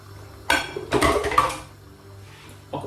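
Seared beef and its juices tipped back into a simmering stew pot: clattering metal and utensil knocks against the pot in two close bursts, then a quieter scrape and a final clink, no voices.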